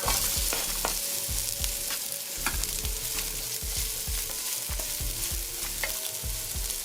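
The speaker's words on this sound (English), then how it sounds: "So once the oil is hot, you're gonna add your onions in" Chopped onions fry in hot coconut oil for a Trinidadian curried seim and potato dish, a loud constant sizzle punctuated by a regular clatter of stirring against the pot, close and without talk.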